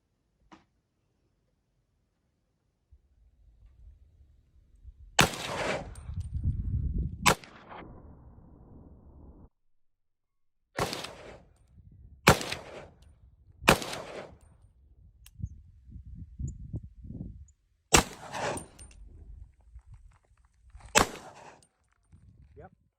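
Several sharp, loud gunshots from a 300 Blackout rifle fired at a target, spaced a few seconds apart, each with a brief echoing tail, with some background handling noise between shots.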